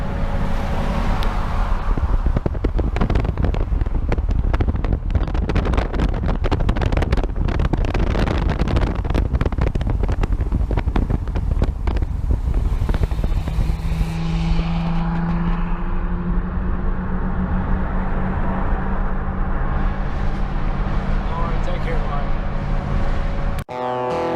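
A V12 coupe cruising north on the German Autobahn 5, with a steady loud engine and road roar buffeted by heavy wind noise throughout, easing into a smoother drone partway through.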